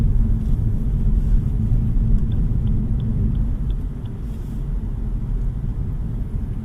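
Steady low road rumble fills the cabin of a 2026 Lexus IS300h Premier riding on 19-inch wheels, a continuous muted drone while driving, with no talking and only faint ticks above.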